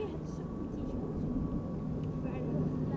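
A Transavia Boeing 737-800 jet airliner arrives at Schiphol Airport, its engines a steady distant rumble heard under a voice talking throughout.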